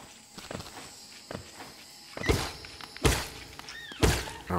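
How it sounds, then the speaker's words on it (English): A few sharp, high-pitched creature squeals in Hollow Knight ring out over a background of thudding steps and clatter, each short cry rising and falling quickly. "Did you hear that noise then? Like a squeal."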